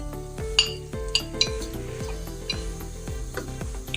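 Spoon scraping and clinking in a cooking pot as garam masala is stirred into chana pulao, a steady rhythm of close metallic knocks and rubbing scrapes.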